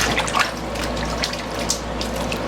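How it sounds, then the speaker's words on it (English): Water runs from a sink faucet as freshly harvested garden vegetables are rinsed, a steady close splashing stream with no voices. "I'm going to rinse them off again in the sink."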